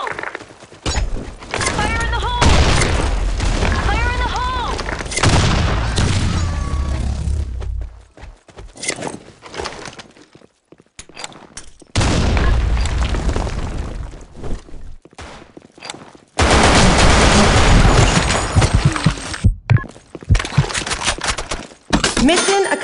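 BlackShot online shooter match with bursts of rapid gunfire and grenade blasts, loud and dense, broken by short near-silent gaps, with game voice callouts mixed in.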